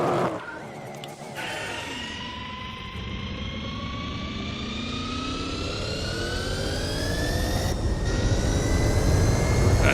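A Gran Turismo 4 race car engine revs high and roars steadily, its whining air-intake pitch sliding up and down like a jet, loud and continuous with a brief cut near the end.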